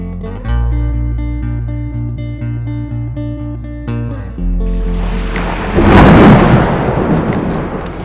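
A thunderstorm with rain comes in over soft music: a loud rumble of thunder builds and rolls, then steady rain hisses on for the rest of the stretch.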